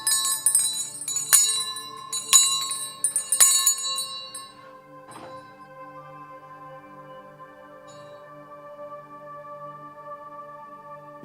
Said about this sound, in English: We're gonna hit it with the quick bell test.